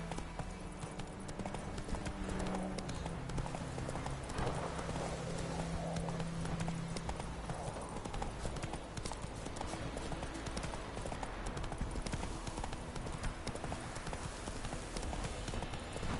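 Roach the horse gallops in Witcher 3, a steady rhythmic clip-clop of hooves running continuously and close under a constant game ambience, with no talking.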